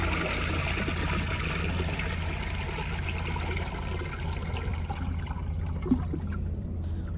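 A 2014 Sterling Windham toilet flushing, a steady rushing and trickling of water that carries on for several seconds, then thins out and quiets near the end, with a small knock toward the close.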